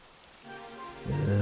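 Rain begins falling in Dragon Quest XI, a soft hiss of drops building up and swelling louder toward the end.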